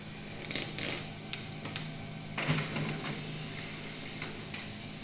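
An office printer running off a printed cheque, a steady mechanical whir broken by quick ticking clicks and a louder clunk midway, close and moderately quiet.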